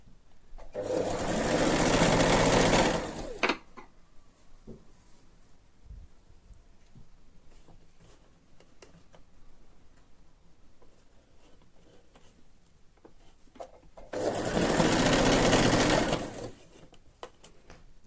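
Sewing machine stitching a seam on a round-cut circular sleeve with lace on top, two loud sustained bursts of rapid whirring stitching near the start and end, separated by a quieter stretch of faint handling sounds.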